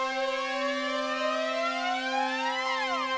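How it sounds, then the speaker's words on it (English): An uplifting riser effect in a pop production climbs steadily up one octave, a bright synthetic sweep of many rising partials over a steady low tone, smooth and continuous with no voices. "We have this like little uplifting thing that basically just is pitching up one octave."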